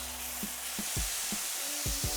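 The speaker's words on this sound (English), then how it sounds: "I'm just using the spatula to hold down the beef and get a nice sear on it" Beef sears faintly on an electric hot plate as a spatula presses it down, a soft steady sizzle under a low hum, broken by several short dull thuds and scrapes.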